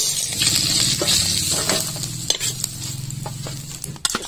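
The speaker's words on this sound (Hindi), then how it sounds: "फिर से हम मछली फ्राई करने के लिए डाल देते हैं" Bami fish fries in hot oil beside a village river, giving a steady, close crackling sizzle with a few sharp pops and spatters toward the end.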